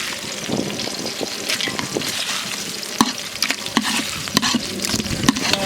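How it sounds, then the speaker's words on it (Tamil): Dried red chillies fry loudly in hot oil in a pan at a village cooking setting, a steady close sizzle broken by repeated scraping and clacking strokes of a stirring spoon. "லைட்டாக செவக்கிற அளவுக்கு கிண்டிக்கங்க."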